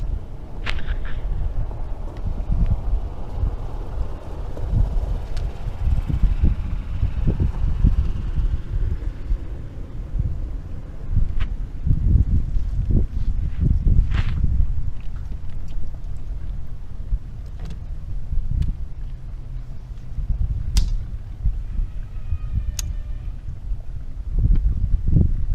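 Wind buffeting around a kayak on Lake Erie's East/West Harbor, a steady low rumble and gusty microphone roar running the whole time with occasional water knocks and splashes close by.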